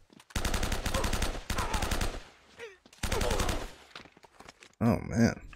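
Machine-gun fire in Uncharted: Drake's Fortune rattles in long, loud rapid bursts separated by short pauses, followed by a brief different in-game sound at the end.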